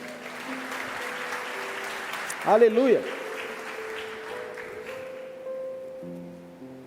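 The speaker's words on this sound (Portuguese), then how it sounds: "Você pode aplaudir o Senhor por isso?" A church congregation claps in a continuous, even wash over held keyboard chords, with a voice shouting out briefly in the middle.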